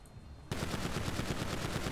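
Rapid automatic gunfire from an Iron Man suit weapon in GTA starts abruptly after a short quiet moment, then continues as a steady, loud, close burst with an even rapid rhythm.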